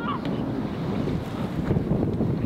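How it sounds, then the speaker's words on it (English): Wind buffets the microphone on an open golf course at Ashburnham Golf Club, a steady loud rushing roar that fills the short stretch with no clear speech. "The wind's right across"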